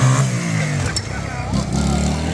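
A Honda 185 motorcycle running during a gymkhana-style riding demo at a motorcycle shop, its engine droning and revving briefly under people talking nearby.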